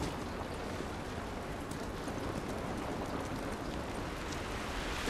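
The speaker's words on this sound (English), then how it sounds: "This rain ain't gonna do us any good." Rain falls in The Last of Us video game as a steady, even hiss with soft pattering, low and continuous across the whole stretch without any voices.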